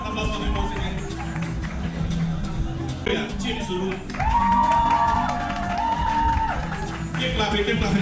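A crowd cheering and whooping at an award event for top realtors, loud and continuous throughout with shouts rising over the din and a brief surge near the middle.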